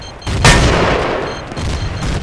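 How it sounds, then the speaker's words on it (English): A frag grenade goes off in the Battlefield 2 video game, a loud close blast that rolls on as a rumbling tail through the whole moment, with no speech over it. "Frag grenade!"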